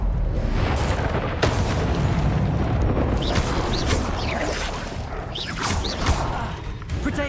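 Incendio fire spell bursts during combat in Hogwarts Legacy, whooshing flame blasts and booms over dense battle noise and music, a voice shouting spell names.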